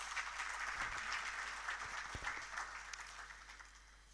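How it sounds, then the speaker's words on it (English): Audience applause at an evening session of a cyber and tech summit after a keynote speech, a steady wash of clapping that holds fairly even for about four seconds before thinning slightly at the end. "why don't we give him another big round of applause?"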